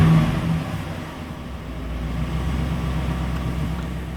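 A 2013 Chevy Silverado 1500, recently repaired for multiple misfires, revs up loudly at first and then settles into a sustained higher engine drone, heard close and alone.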